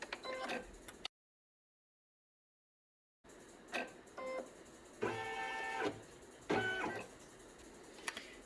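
An embroidery machine stitches the colored hair of a unicorn plush toy, running in short rhythmic mechanical bursts of rapid ticking with a brief silent gap, close and moderately quiet.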